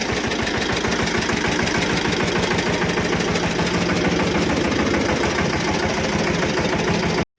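A tractor engine idles steadily close by with a rapid rhythmic chugging throb, hooked up to a cultivator, running without a break until it cuts off abruptly near the end.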